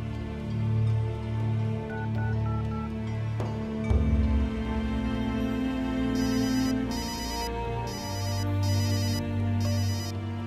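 Phone ringtone heard during an outgoing call, a repeating melodic ring in steady bursts, loud and close, with no talking over it.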